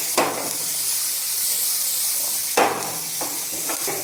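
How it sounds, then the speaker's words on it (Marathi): Bottle gourd fries over high heat in a pan, a steady bright sizzle close by that swells with sharp bursts when the pieces are stirred, repeating several times with no voices. "एक सुरुवातीला फक्त 1 मिनिट आपल्याला त्याला मोठ्या आचेवर फ्राय करायचं आहे."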